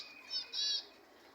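Pigeon-like prince birds give two short, bright bursts of calling and wing-flapping close by, the second burst longer, followed by quiet.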